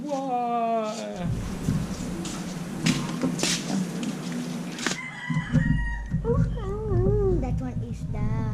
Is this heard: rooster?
yes